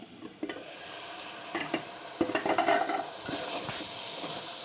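Bottle gourd curry sizzles and fries in a pan, a steady close crackle with intermittent scraping stirs and spatula clinks, busier in the middle and settling into an even hiss.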